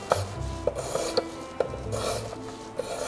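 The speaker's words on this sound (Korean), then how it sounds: "오이는 국수처럼 길게 썰어주는 게 좋아요." Knife slicing peeled cucumber into long noodle-like strips on a cutting board for cucumber bibim noodles, a steady close rasping scrape with sharp regular knocks of the blade landing, no voices.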